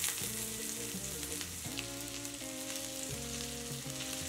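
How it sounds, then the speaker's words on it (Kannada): Chana dal, urad dal and ginger frying in hot oil for tamarind rice give a steady, continuous sizzle that runs the whole time beneath background music, with no talking. "ಇದೇ ಎಣ್ಣೆಗೆ ಕಡಲೆಬೇಳೆ ಹಾಕೊಳ್ಳೋಣ. ಉದ್ದಿನಬೇಳೆ, ನಾನಿಲ್ಲಿ 1/4 ಇಂಚಿನಷ್ಟು ಶುಂಠಿ ಹಾಕ್ತಾ ಇದ್ದೀನಿ."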